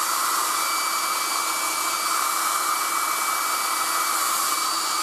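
A 1980s Black & Decker Stowaway travel hairdryer runs at full heat and full speed, giving a steady, loud, unbroken airy whoosh with a thin high whine, close up and alone for the whole stretch.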